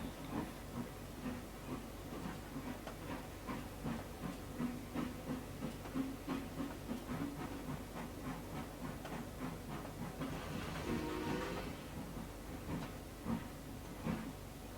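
Simulated train in the Trainz game pushing a string of five boxcars onto the second rail of a rail barge, a steady rumble with rhythmic clacking and hissing, a brief louder hiss midway, no talk.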